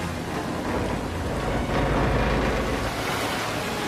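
Rushing river current pours over rocks, a steady, dense wash of water that stays loud and unbroken throughout with no voices.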